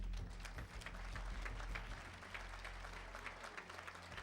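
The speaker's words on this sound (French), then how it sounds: "On les applaudit tous les 5." An audience at the 2013 Pierres d'Or sustainable real estate awards ceremony applauds the five nominees with a steady, even wash of clapping that stays fairly faint and distant throughout.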